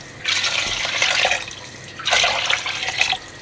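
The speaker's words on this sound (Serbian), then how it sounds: "a zatim ćemo da nalijemo vodu" Water is poured into a pot of sautéed vegetables in two bursts, each a splashing, gurgling rush lasting about a second, near and fairly loud, with a short pause between and no talking.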